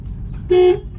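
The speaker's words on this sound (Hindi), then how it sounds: "हॉर्न दो, इस जगह पे हॉर्न देना पड़ेगा।" A single short, loud car horn toot sounds on a road during a beginner's driving lesson, against a quiet background of engine and road noise.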